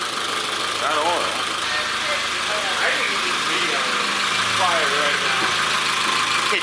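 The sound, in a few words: old Nissan engine idling with a massive exhaust leak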